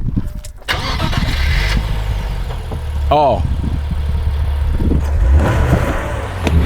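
A 2023 Nissan Z's engine cranks and catches, then settles into a steady, moderately loud idle with a slight rev, while people talk nearby.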